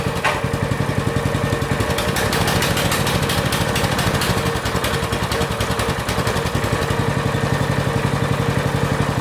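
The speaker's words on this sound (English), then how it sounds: "This one's exactly the same, still just idling really high." A small engine idles too high, running at a fast, steady, even putter that stays loud and close throughout with no talking.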